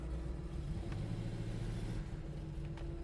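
The 440 engine of a 1970 Plymouth Cuda rumbles steadily under light throttle, a low, even drone heard from inside with faint clicks and no talking.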